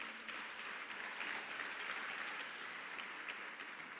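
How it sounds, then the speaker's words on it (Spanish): A church congregation claps during a sermon, a soft, distant, steady patter of applause with a few louder swells, heard alone without talk. "Dale un fuerte aplauso a Dios."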